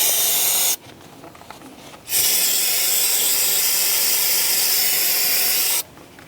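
Cleaner sprayed onto a brake caliper on a 2003-2007 Honda Accord, two long loud hissing blasts separated by a short break, close to the microphone.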